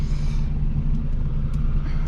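Peugeot 206 1.4 running on ethanol with only the exhaust pipe fitted and the engine near 90 degrees, a loud, close, steady deep rumble at idle from engine and exhaust.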